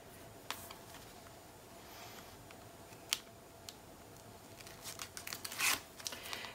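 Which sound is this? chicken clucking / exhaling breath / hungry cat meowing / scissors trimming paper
scissors trimming paper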